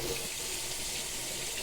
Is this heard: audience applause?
no